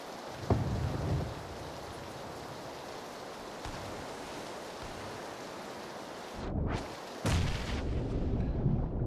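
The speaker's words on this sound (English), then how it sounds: "The rain is difficult, super difficult to hear in." Steady rain in the video game PlayerUnknown's Battlegrounds hisses throughout, with a few dull thumps and a sudden loud whooshing burst near the end.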